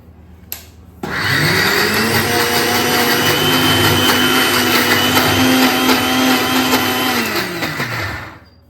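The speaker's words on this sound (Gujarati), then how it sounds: "ફરી આપણે પીસી લઈશું." A kitchen blender grinds soaked chana dal with a loud, steady motor whine that starts abruptly and runs for about seven seconds before spinning down. A brief knock comes before it starts.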